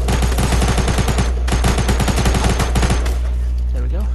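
Rapid bursts of submachine gun fire in Fortnite, loud and close, several strings of quick shots broken by short pauses.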